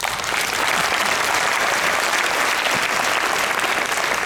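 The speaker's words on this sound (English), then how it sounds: "Could you all give Robert a round of applause?" A conference audience gives a sustained, dense round of applause for a guest named Robert, steady and loud throughout, with no talk over it.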